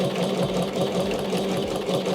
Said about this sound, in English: And then we're just sewing down the line.